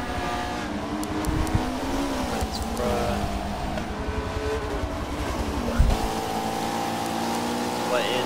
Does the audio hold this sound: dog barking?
no